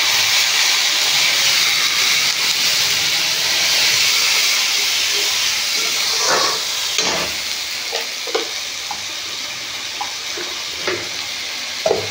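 Water is added to a frying paste of ground ginger, garlic and cumin with turmeric and chili powder, producing a loud, close hiss and steamy sizzle that gradually settles into a softer bubbling with occasional utensil knocks.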